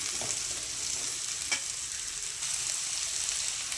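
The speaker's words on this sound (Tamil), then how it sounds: "நல்ல கோல்டன் ப்ரௌன் வர வரையில நல்ல வெங்காயத்தை வந்து வணக்கிக்கலாம்" Chopped onions frying until golden brown in a pan, heard as a steady, even sizzle with a faint stir or two, close and alone with no voices.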